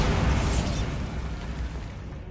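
A Bombarda explosion spell blast in a video game: one loud booming burst at the start that decays into a rumbling, fading roar with no talk.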